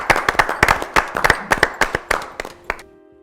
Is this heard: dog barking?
no